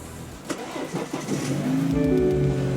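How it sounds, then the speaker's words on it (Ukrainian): A car engine cranks a few times, then catches and starts, settling into a steady running hum close by. "машина з'їхала сама з потяга, літочок, і ми зараз її запускаємо"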